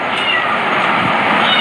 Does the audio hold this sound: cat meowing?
yes